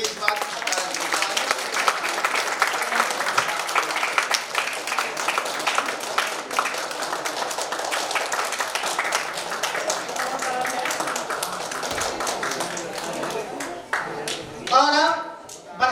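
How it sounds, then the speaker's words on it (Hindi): Students at a school Louis Braille anniversary ceremony clap through a long, steady stretch of applause. The clapping sounds mid-distance and continuous, with voices and a child's speech mixed in. It briefly drops and then swells near the end. "भाई तालियां कम बज रही है इस बात की।"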